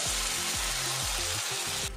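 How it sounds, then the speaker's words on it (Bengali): Green pea paste fries with spice masala in a pan, giving a dense, close, continuous sizzle with no pauses and no voices. "এবারে এর মধ্যে দিয়ে দেবো কড়াইশুঁটির পেস্ট।"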